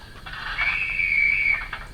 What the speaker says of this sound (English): We've also got the guard's whistle then.